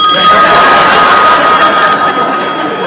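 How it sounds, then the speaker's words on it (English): A telephone rings loudly and steadily, its bright electronic tone sustained across the whole stretch with no voices over it. "I just figured if I opened my mouth that the phone would start ringing"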